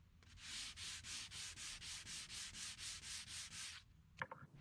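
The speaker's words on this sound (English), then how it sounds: "I do a light sanding with 150 grit sandpaper" Light hand sanding of a vintage wooden dresser top with 150 grit sandpaper: a dozen even back-and-forth strokes in a steady rhythm, close and soft, then a small knock as the sanding stops.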